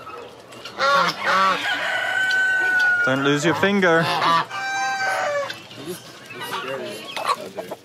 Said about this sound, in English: These are the geese. They're mad.